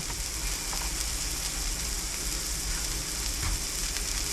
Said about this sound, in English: that's sizzling just like a regular burger would